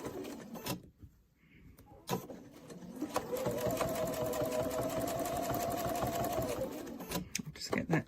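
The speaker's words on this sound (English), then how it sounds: "we're going to sew the 1/4 inch seam" A sewing machine runs a quarter-inch seam on a quilt block, a steady whirring hum of several seconds after a few clicks and handling noises, with quiet rustles before and after.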